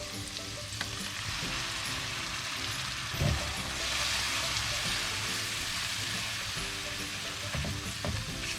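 Tomatoes fry in oil with ginger-garlic masala, giving a steady, loud sizzle across the whole stretch, with occasional stirring clatters and scrapes in the pan and no talking.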